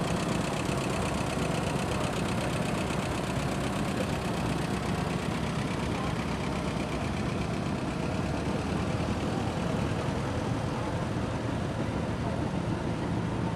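A 1957 Allis-Chalmers WD-45 tractor engine runs in a farm show parade, a dense, steady rumble with constant broadband noise throughout, loud and close with no breaks, no voices standing out.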